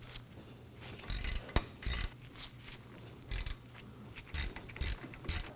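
A 17mm socket ratchet loosens the front brake caliper bracket bolts on a 2016-2020 Kia Sorento, giving several short, close bursts of rapid clicking with brief quiet gaps.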